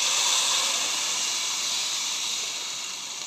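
Water hits a hot pan of fried onion and erupts into a loud, steady hiss of steam that slowly fades over a few seconds, close up with no talking.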